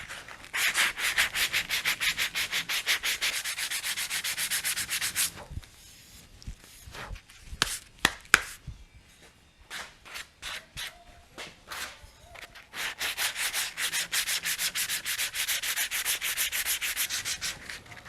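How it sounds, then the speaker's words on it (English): Hand sanding with sandpaper, strokes running one way and then crossing at ninety degrees: two long bursts of fast, steady rhythmic rubbing, close and loud, broken midway by a quieter stretch of scattered handling sounds and light taps. "So you want to sand in one direction and then go back and sand in another direction."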